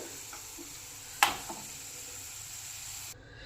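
Crispy sweet corn fries in a pan with a soft, steady sizzle, broken by one sharp clink of a utensil partway through before the sound cuts off.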